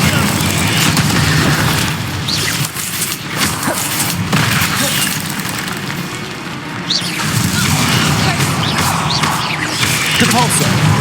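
An Incendio fire spell is cast during Hogwarts Legacy combat, with loud booming, crashing bursts over a dense, continuous din of battle effects, and a voice speaking over the noise.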